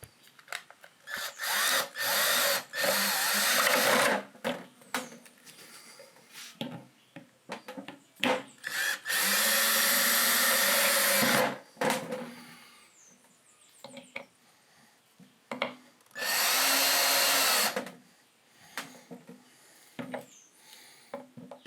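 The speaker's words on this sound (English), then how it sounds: "Now I can just screw in the screws." A power drill drives screws deep into a scrap wood triangle in three long, loud whirring bursts separated by quieter handling clicks and knocks.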